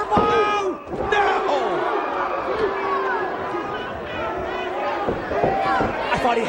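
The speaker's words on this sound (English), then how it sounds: "Sit out, spinning powerbomb." Wrestler driven onto the ring mat by a sit-out spinning powerbomb during a 2005 pro wrestling match, one heavy impact buried under loud crowd roar and excited commentary.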